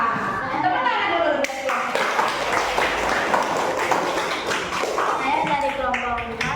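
A classroom group applauds a presenting team, scattered clapping from many hands rising and falling while voices talk over it and a chuckle breaks through.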